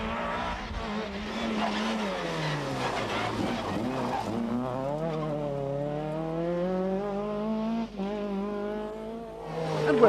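A front-wheel drive Ford Escort rally car, built by Gordon Spooner and racing at the 1994 Rally of the Lakes, howls at high revs with gear changes and rising pitch sweeps, staying loud and close throughout with faint tyre scrabble.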